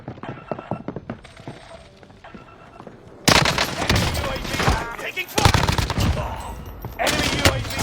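Bursts of rapid gunfire in a first-person shooter video game, quiet at first, then loud sustained automatic fire with sharp shots from about three seconds on, mixed with faint background game sounds.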